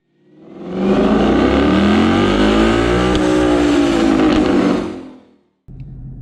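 A stock 2019 Ford Mustang GT revs hard on a dyno, one loud sustained pull climbing and falling in pitch over several seconds, then cutting off to a low idle.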